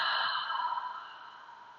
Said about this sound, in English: Holding it at the top and then completely exhale.